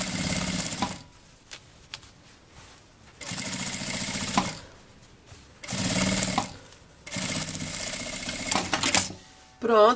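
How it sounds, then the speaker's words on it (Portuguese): A sewing machine stitches a bag lining to the fabric in several loud, fast-whirring runs separated by pauses, close by, with handling clicks between bursts. "eu passo uma costura aqui pra segurar esse forro aqui no material"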